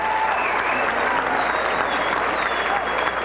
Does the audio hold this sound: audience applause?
yes